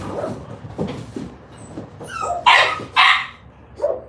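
Bulldogs bark in a few loud, close yips and woofs, with two strong bursts near the middle and a softer one at the end over low background murmur.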